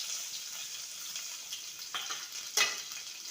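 Crushed ginger and garlic sizzle steadily in hot oil for a spicy crab masala, a close, constant frying hiss with a few sharper crackles and stirring sounds, no voices.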